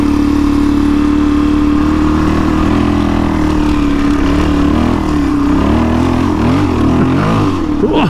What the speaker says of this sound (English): my back wheel just spun on that rubber matting